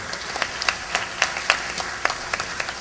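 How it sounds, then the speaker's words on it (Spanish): Applause from a university event audience, scattered claps heard faintly and at a distance against a steady hiss, with no talking over it. "Fuertes aplausos, por favor."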